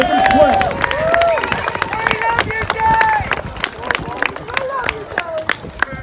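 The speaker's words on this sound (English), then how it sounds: "Another round of applause for Dave." Audience at a GeekFest stage event breaks into scattered clapping and cheering, a dense crowd patter of hands with whoops and voices rising over it, fairly close and lively throughout.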